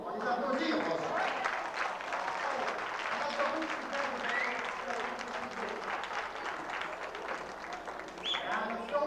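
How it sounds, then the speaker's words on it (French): Applause from an audience at a 1991 stage revue, moderate and somewhat uneven, with scattered claps mixed with voices and crowd murmur, and people talking through it as it continues. "On les applaudit, on va ça."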